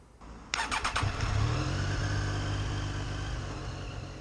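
A Triumph Street Triple RS motorcycle cranks with a quick burst of starter clatter, then catches and settles into a loud, steady idle that fades slightly toward the end.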